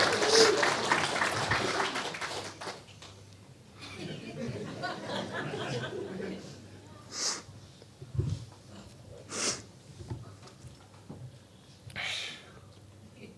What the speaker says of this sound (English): Y'all clap for my mom.